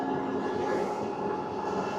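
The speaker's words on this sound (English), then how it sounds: "There's another train going southbound." A southbound train rolls past on the tracks at Moore Park, a steady, continuous rumble and rushing roar with no voices.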